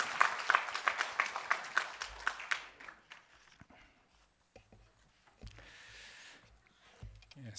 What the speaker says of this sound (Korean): 격려의 박수를 한번 크게 해주시면